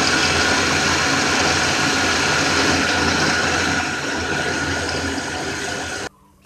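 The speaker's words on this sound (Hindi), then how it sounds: "अब हम इसे पीस लेंगे।" Mixer grinder whirring loudly and steadily as it purees boiled spinach with little water, a continuous motor drone that cuts off abruptly near the end.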